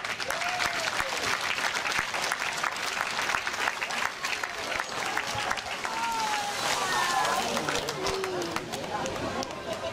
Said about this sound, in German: das ist einen großen Applaus wert, oder?